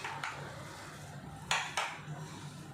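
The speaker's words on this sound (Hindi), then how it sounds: "तो ये सारी चीज़ें हमें मिक्स करनी है, तो मैं इसी में ही कर देती हूँ।" Ingredients for a masala corn toast filling, including boiled raw banana, mixed in a bowl: soft scraping and a few dull knocks of a spoon against the bowl, close and quiet, with no talking.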